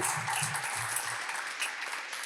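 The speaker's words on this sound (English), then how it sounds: "Alright, let's all give a round of applause" A Toastmasters club audience at a Dubai milestone meeting applauds the teams, a dense round of clapping from many hands that stays steady for a couple of seconds, then slowly thins.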